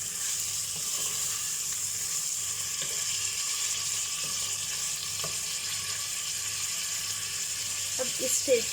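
Mutton being fried (bhuna) in a pan for khada masala mutton stew, giving a steady, close sizzle that runs throughout, with faint clinks of stirring and a brief clatter near the end.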